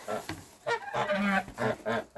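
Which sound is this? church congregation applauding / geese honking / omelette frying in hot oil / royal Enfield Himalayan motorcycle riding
geese honking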